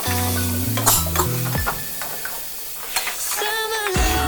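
Chopped tomato fries in a pan for a prawn and pumpkin curry while a utensil stirs it. Soft sizzling runs throughout with scraping stirs, and a few brief tones sound near the start.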